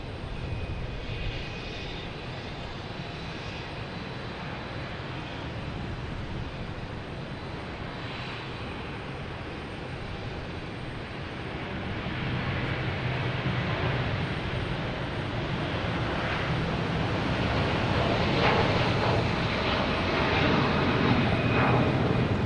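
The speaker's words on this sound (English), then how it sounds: "Virgin Atlantic heading to London Heathrow" Virgin Atlantic Airbus A330-300 jet airliner at Boston Logan Airport, a continuous broadband engine roar that swells louder over the second half as the aircraft nears or climbs out, heard from a distance with no talking.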